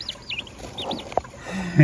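Turkeys on a small farm give a few short, high chirping peeps close by, followed by a brief low vocal sound at the end against light outdoor noise.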